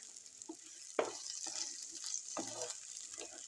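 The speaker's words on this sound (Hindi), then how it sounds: "घी जो हमारा गर्म हो चुके, अब मैं इसमें प्याज डाल दूंगी" Chopped onions sizzle quietly in hot ghee in a home kitchen pan while the cook stirs, with a steady soft frying hiss and a few louder scrapes and clatters, and no talking.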